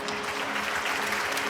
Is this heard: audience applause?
yes